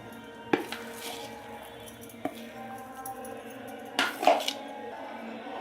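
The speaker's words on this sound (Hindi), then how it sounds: "अब हम मूंगफली के दानों को माइक्रोवेव सेफ प्लेट में डाल देंगे" Peanuts being spread onto a microwave-safe plate, with a few sharp clinks and soft rattles of nuts and dish at irregular moments over a quiet kitchen background.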